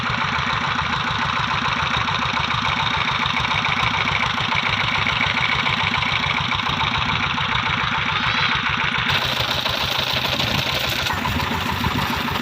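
A motorcycle engine idles steadily just after starting at a bike wash and service station, a constant close rumble with a rapid, regular pulse and no talking.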